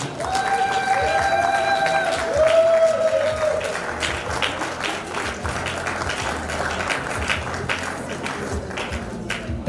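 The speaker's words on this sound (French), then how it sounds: "Des applaudissements, s'il vous plaît." A crowd applauds steadily, dense clapping filling the space, with a brief tonal whine early on and faint voices mixed in.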